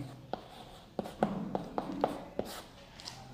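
A pen writes by hand in short scratchy strokes and taps, about half a dozen distinct marks over a few seconds. The sound is close and clear, with no speech.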